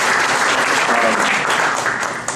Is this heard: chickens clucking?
no